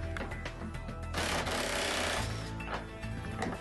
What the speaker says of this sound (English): Now we will remove the basket retainer hardware with a 10 millimeter socket.